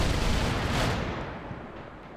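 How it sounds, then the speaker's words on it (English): Cluster bomb explosions go off in a strategy war game: a heavy, rumbling barrage of overlapping blasts that peaks loud, then decays into a lingering low roll, with no talking. "But the other one manages to cluster bomb."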